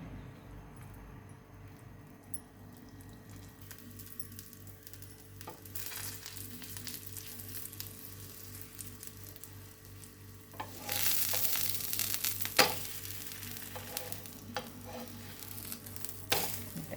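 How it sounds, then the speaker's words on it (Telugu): Bhakshalu flatbread with chana dal filling roasts in ghee on a flat pan, a low steady sizzle that swells louder and crackles more in the latter half, close up and alone. "కొంచెం నెయ్యి వేసుకొని కాల్చుకోవడమే"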